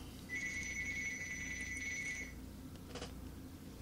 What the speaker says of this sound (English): Yeah, the phone's ringing, folks.